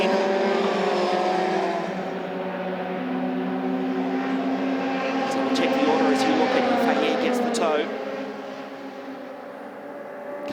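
Euroformula Open single-seater race cars at Mugello scream past, engines dropping through the gears with rapid downshift blips, loud and sustained under a commentator's voice.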